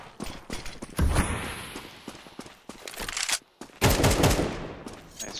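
Automatic rifle fire in Counter-Strike 2 on the Dust2 map during a ranked match, with loud bursts in rapid rhythm, a heavy volley near the start and another near the end, broken by short gaps.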